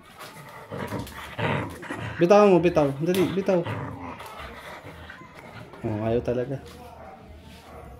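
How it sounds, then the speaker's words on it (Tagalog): A pet dog whimpers and growls in drawn-out, wavering cries while tugging during play, loudest in two bursts, as a person speaks close by throughout. "Naharo talaga itong aso ko."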